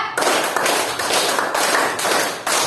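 A class of children plays a counted clapping game, striking their hands together in a steady rhythmic run of sharp claps that fill the clip from start to end without pause.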